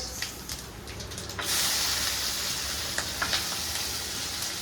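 Bay leaf and cumin seeds sizzle in hot oil in a wok, a steady close hiss that swells loudly partway through, with faint crackles and pops on top and no talk.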